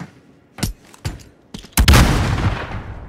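Gunfire in the video game Call of Duty: Modern Warfare: three crisp, well-spaced shots ring out close by, followed by a louder burst that trails off into a fading rumble.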